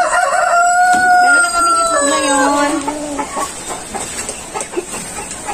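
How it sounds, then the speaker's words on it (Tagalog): A rooster in a breeder house crows loudly and close by, one long drawn-out cock-a-doodle-doo with falling notes, followed by softer clucking and faint background noise. "Ito ang aming rooster."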